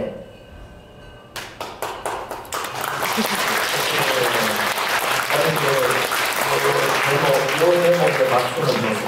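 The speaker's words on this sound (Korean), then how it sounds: "이 박수는" Audience applause at a Buddhist special dharma service at Gwangjesa temple, starting after a few sharp claps and swelling into sustained, dense clapping from a hall full of people.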